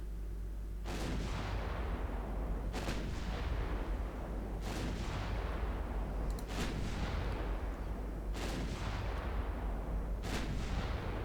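Heavy naval guns firing in the warship game Ultimate Admiral Dreadnoughts, six loud booming salvos at regular intervals over a constant low rumble of sea and engine, no talking.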